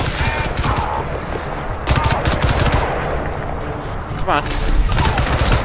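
Dense automatic gunfire and bursts from the video game Crysis 2 run continuously at high volume, with an occasional boom, while someone talks over the shooting.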